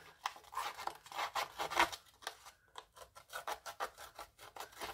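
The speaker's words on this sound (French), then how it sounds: "quand vous grattez le bord de votre feuille, et ben voilà, simplement ça vieillit votre papier" A paper distressing tool, a small blade with notches, scrapes along the edge of a paper sheet in quick, rhythmic rasping strokes, close and fairly soft, with no talking.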